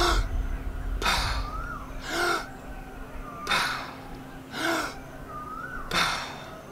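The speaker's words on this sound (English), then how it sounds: "there is a hook breathing. The hook means that you inhale as much as possible and then hold it for a few seconds" Repeated sharp breath intakes from hook breathing after a freediving breath hold, about five strong gasps spaced roughly a second apart, close and loud, each followed by a brief voiced catch.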